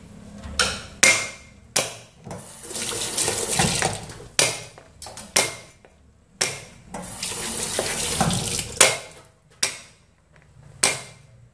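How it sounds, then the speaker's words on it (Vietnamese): Chrysanthemum greens washed under a running kitchen tap, heard as two stretches of splashing water broken up by loud, sharp knocks in the sink, close by and without talking. "mình nhặt sạch sẽ, sau đó thì mình sẽ rửa sạch nhé, để ráo nước đi."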